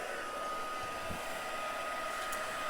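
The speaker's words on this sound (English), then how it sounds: "And then you get your heat tool, you heat it up, make sure that there's not any rogue embossing powder" A heat tool blowing hot air over embossing powder, a steady, even whoosh held without a break, close up and alone.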